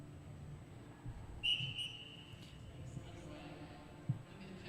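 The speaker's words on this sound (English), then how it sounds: "He'll blow his whistle and set them off." A starter's whistle at a track cycling championship sounds a single short, clear blast, faint and slightly distant over quiet venue ambience.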